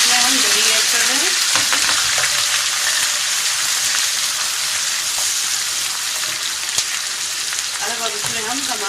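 Onion, ginger-garlic paste and yogurt fry with a steady loud sizzle in a pot, with occasional stirring scrapes, while a voice talks softly underneath for a kofta curry.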